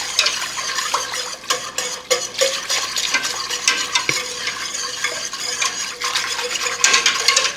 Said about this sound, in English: Use your whisk to break up all the chunks.